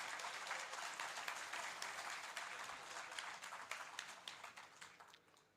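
A conference hall of pensioners at an all-India gathering breaks into sustained applause, with many hands clapping in a soft, distant wash that gradually thins toward the end.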